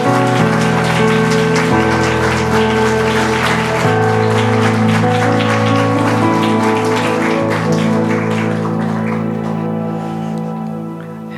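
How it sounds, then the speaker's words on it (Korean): Congregation applause at a Friday night church prayer meeting patters like rain beneath sustained keyboard music, steady and fairly loud before easing off at the end. "우리 목사님 나오실 때 우리 큰 박수로 축복해 주십니다"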